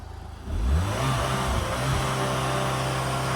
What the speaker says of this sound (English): Listen to this 2-liter turbo.